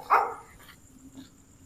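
A single short bark from a nearby dog sounds near the start, followed by a few faint yips and quiet background hum.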